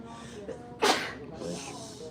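A single sharp sneeze bursts out near the middle, loud and close against a quiet indoor background, with soft voices murmuring around it.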